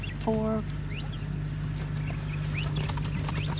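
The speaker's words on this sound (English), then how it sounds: "4 hens and a rooster all running around in here" Four hens cluck nearby in a straw-bedded coop, with a short rooster call near the start over a steady background hum.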